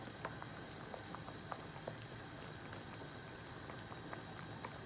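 Faint, steady bubbling and soft popping of rice boiling in a pot of water, a continuous low simmer with scattered small pops, no voices.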